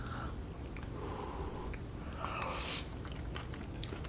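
Close, soft chewing and biting of a tofu scramble with chestnut mushrooms and cashew cream, steady moist mastication with faint crunches and breathing, no talk.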